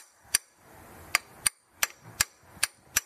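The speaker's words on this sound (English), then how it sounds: "And then it's just going to hammer in." Sharp metal-on-metal hammer strikes drive a CV axle into a Hyundai Sonata during a passenger-side axle replacement, seven loud distinct blows at an uneven pace over faint background hum.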